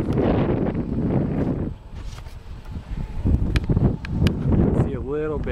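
Wind blows outdoors beside a wood boiler, a gusty rumble buffeting the microphone that is strongest at first, while someone talks over it.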